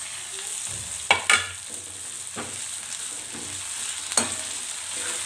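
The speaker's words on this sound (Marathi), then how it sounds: "टमाटर पण व्यवस्थित तेलामध्ये परतून घ्यायचं" Tomatoes sautéing in oil for sambar give a soft, steady sizzle punctuated by several spatula knocks and scrapes against the pan, close by with no voices.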